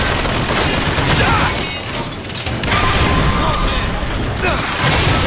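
Dense, loud explosions and gunfire bursts from RPG fire against a turret in the video game Bioshock Infinite, played on Hard, forming a continuous crashing barrage with only brief dips.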